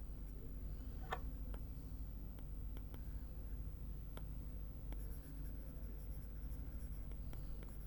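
Writing on a board during a Class 10 lesson gives faint, sparse scratches and taps over a steady low room hum, quiet and close with no voices.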